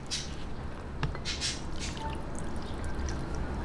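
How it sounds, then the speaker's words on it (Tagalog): Two cups of water poured slowly into a baby shrimp okoy batter make a soft, steady trickle with faint splashes, fairly quiet and continuous throughout, with no talking. "dahan-dahan lang po yung paglalagay ng tubig, pero ito pong tubig ko ay 2 cups."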